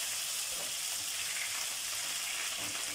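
Onion sizzles in very hot oil at the start of a chicken stew, a steady, faint hiss and crackle that carries on evenly, with no voices over it.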